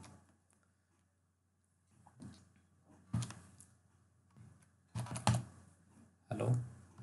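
A computer keyboard is typed on in scattered clusters of clicky keystrokes, close and fairly quiet, with gaps of near silence between bursts.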